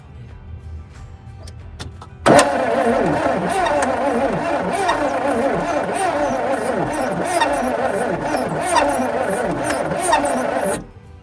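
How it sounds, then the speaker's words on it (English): The starter motor of a 1986 GMC Sierra cranks its engine continuously for about eight seconds, a loud rhythmic churning with a sharp onset, turning over without firing before cutting off abruptly. "I want to crank it over, make sure the motor's not locked up"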